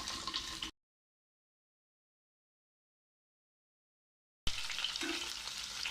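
Capsicum sizzles in a hot pan during sautéing, a close frying hiss with some stirring, cut off by a long stretch of silence before the sizzle resumes.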